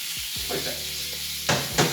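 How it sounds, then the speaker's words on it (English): Steak searing on a hot griddle gives a steady close sizzle, with a couple of sharp scraping bursts near the end as the meat is moved. "my steak has had its time on the griddle"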